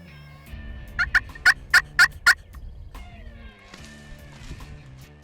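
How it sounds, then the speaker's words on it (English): Wild turkey toms on a Nebraska property gobble loudly in a rapid burst of about six sharp, rattling calls, followed by quieter clucks and calls against a faint background. "the toms are gobbling"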